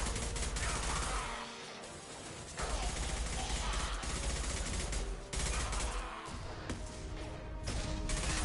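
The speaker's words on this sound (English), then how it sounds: "Firing an impact shot." Impact shots fired in Mass Effect 2 amid dense combat, a run of loud, punchy gunfire bursts with mechanical clatter and crashes repeating over several seconds.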